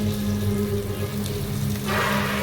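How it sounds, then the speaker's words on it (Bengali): Ground spice paste going into a hot frying pan for a potato and pointed gourd curry, a steady sizzle that swells into a louder, brighter hiss near the end. "চলুন এখানে বাটা মশলাটা দিয়ে দিই এই যে দিয়ে দিলাম"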